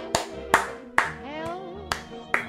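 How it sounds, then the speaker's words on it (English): A single person claps slowly, about six sharp claps spaced roughly half a second apart, over a soft bed of tonal background music, in the horror game Bad Parenting. "let's give that applause"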